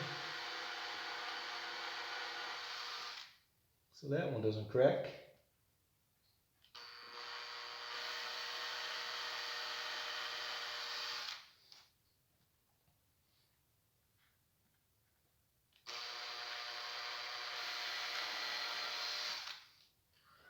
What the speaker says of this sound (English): Let's drill this down to the second piece of wood